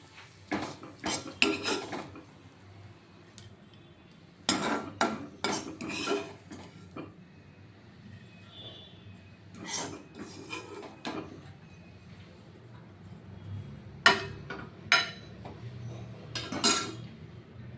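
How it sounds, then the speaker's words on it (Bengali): Fried bottle gourd peel is served from a pan onto a plate, with repeated clinks and scrapes of a spoon against metal dishes in short bursts, some loud and some softer, over a low background hum. "এবার আমি আপনাদের থালায় তুলে দেখাচ্ছি"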